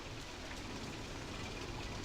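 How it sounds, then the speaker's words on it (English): Steady, hissing rain in the video game Roller Coaster Tycoon 3 fills the whole stretch, even and continuous without any voices. "this rain really ruins it"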